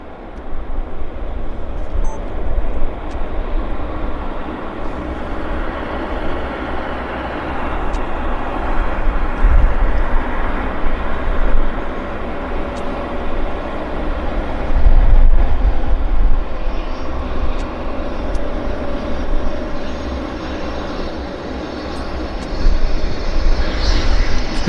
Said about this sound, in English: We've got a citation here that just rolled out in front of us